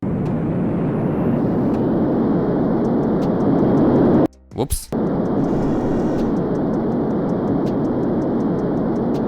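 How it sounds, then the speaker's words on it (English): A VTOL plane in the SimplePlanes video game roars steadily through a vertical takeoff, a broad engine rush that cuts out briefly in the middle before resuming, with a voice speaking a word over it. "Let's make a vertical takeoff."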